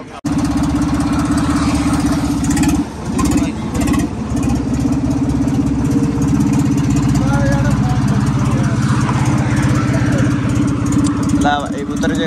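A tractor engine runs steadily and loud as it is unloaded from a trolley, a continuous close diesel drone with slight revving throughout.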